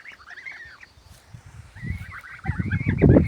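Geese honk and call in a small group nearby on a farm, the sound building from scattered cries to a louder, busier chorus at the end.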